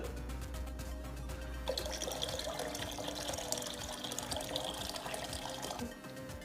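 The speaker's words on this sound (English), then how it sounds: "Fill the carton with required amount of water" Water pours in a steady stream into an electric kettle, splashing and gurgling continuously, close by.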